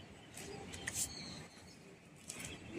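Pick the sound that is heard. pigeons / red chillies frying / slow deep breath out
pigeons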